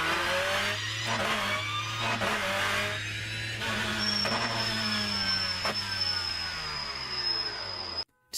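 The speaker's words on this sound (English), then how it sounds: "Whenever I am in a gear, the engine noise is cutting in and out, but the transmission whine's staying." A BTCC touring car in the rFactor 2 racing game, on the Norisring circuit, drones with a steady engine note that keeps dipping and returning in gear while a high transmission whine holds on, ending in an abrupt cut.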